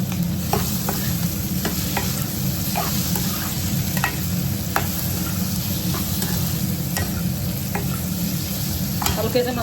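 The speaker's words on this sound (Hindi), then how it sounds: "आप देख सकते हैं, ऐसे ही भूनेंगे थोड़ी देर" Mildly spiced food roasts in a pan with hing and cumin, a continuous close sizzle broken by regular scraping stirs of a spoon, with no talking.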